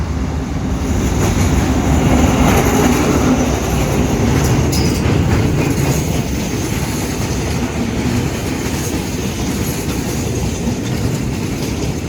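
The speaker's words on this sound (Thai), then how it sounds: "วันนี้ใช้เป็นอัลสตอม 41 52ทำขบวนครับ" Freight train 722 hauled by an Alstom locomotive rolls past loudly and close, with a continuous rumble of wagons, clacking wheels and some metallic squeal over about twelve seconds.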